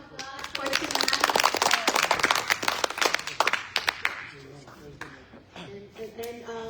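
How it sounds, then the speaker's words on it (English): A church congregation at an evening Bible study gives a round of clapping, brisk irregular hand claps building then thinning out, with voices and some musical tones coming in near the end. "can we give a clap offering to God for tonight?"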